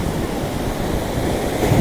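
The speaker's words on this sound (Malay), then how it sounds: "Ombak tengah tinggi. Memang tengah angin kuat, kencang." Big waves crash onto a beach in a strong, gusting wind during the monsoon season. Surf and wind roar loud, steady and close with no break, and the wind buffets the microphone throughout.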